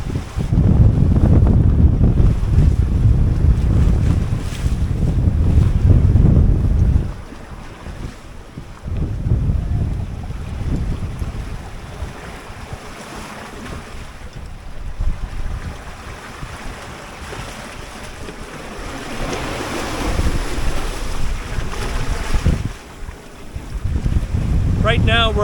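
A 21ft home-built sailboat crossing the Gulf Stream under reefed sail from Virginia Beach to the Azores, wind buffeting the microphone in heavy gusts over rushing waves and hull noise, loud then easing and building again.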